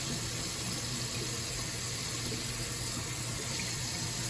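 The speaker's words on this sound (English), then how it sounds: "with a dry paper towel, I'm going to turn off the faucet" Steady, close running water from a sink faucet during handwashing, a constant broadband rush with no voices over it.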